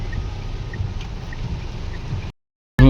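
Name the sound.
rain falling at Mount Abu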